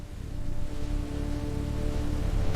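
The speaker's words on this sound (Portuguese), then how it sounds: "40 dias e 40 noites a chuva continuou." Steady rain falls as a continuous even wash of noise, growing slightly louder, with no voices and no distinct drops standing out.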